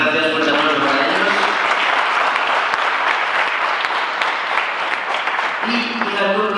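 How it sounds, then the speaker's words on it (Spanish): Dense, sustained applause fills a hall at Maker Faire Galicia 2018 after a project pitch. Loud and continuous, it is joined by a voice speaking near the start and again at the end. "muchas gracias por el aplauso para ellos"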